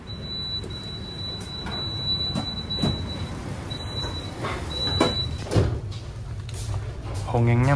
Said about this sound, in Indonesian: Berangkat kembali dari stasiun Klaten.